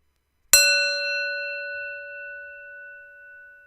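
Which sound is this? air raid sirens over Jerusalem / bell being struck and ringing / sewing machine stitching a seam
bell being struck and ringing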